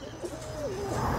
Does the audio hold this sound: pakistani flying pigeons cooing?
yes